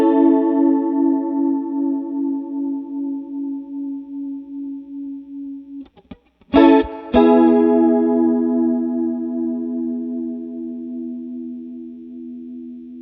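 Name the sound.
electric guitar through Boss CE-2 chorus pedal with settings maxed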